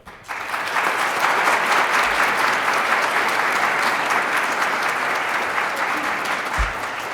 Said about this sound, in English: why don't we have a big giant round of applause for Blake Huffaker